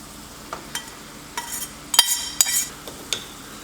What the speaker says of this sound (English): Now we're going to add our noodles.